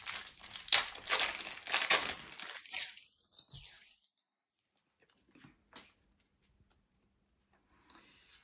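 A Lorcana trading card booster pack being torn open and its foil wrapper crinkled, close and loud for about three seconds, then a few faint rustles and taps in near quiet.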